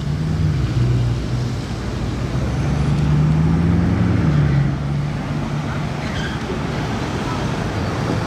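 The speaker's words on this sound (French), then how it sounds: "c'est ouf à voir en mouvement une chiron" A Bugatti Chiron supercar drives past on a Monaco street at night, its deep engine rumble swelling and rising in pitch midway before easing off, over steady traffic and crowd noise.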